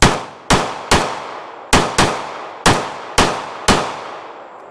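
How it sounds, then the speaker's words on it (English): A magazine of Phoenix ammunition fired through a Walther CCP M2 pistol: eight sharp, loud shots in an uneven rhythm, each with a short ringing decay, no talking. "another mag of the Phoenix ammo through the CCP M2"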